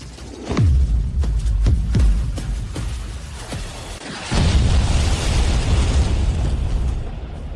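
Bomb blasts in an animated period drama, a series of deep booming explosions followed by a heavier rumbling blast with debris noise, loud and with no talk.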